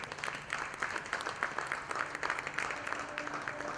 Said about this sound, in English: please join me in welcoming with a huge round of applause Ms. Megha Tata